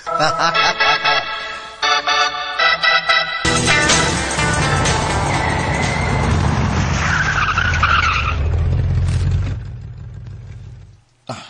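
Close and loud, a taxi's tires screech as it skids to a stop outside a motel, the squeal sustained for several seconds over engine noise before cutting off, with brief clatter at the start.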